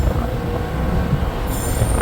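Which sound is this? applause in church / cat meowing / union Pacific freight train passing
union Pacific freight train passing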